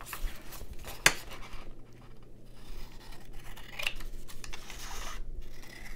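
Paper scraps trimmed with scissors while making small junk journal envelopes, a single sharp snip standing out near the start over a low steady hum, followed by faint rustling and light scraping.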